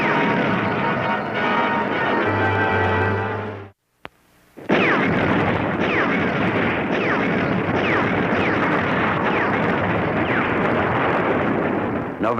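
Russian artillery barrage at Stalingrad in 1942, loud and continuous with dense overlapping booms and rumble, a brief near-silent gap around four seconds, then a renewed roar of rapid blasts.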